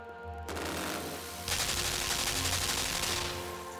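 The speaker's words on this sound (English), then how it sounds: "That's a machine gun." Sustained machine gun fire from a ceiling-mounted gun in the video game LIMBO, dense and continuous with a steady rattle that grows louder partway through, with no talk over it.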